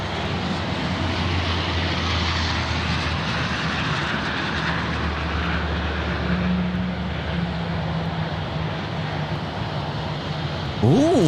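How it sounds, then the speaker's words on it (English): A Dash 8 turboprop airliner passes at Sydney airport with a steady, moderately loud engine drone and propeller hum, with a faint low tone rising and falling as it goes by and a brief sharp sound at the end. "Dash 8 now coming across our screens."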